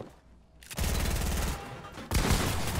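Fortnite gunfire erupts in dense rapid bursts, a loud rattling volley of shots after a brief quiet moment, then a second, even harsher burst starting partway through.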